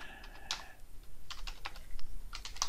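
Quick bursts of keystrokes on a computer keyboard while a folder name is entered in a file-share setup, close and clear with short pauses between clusters, no voice.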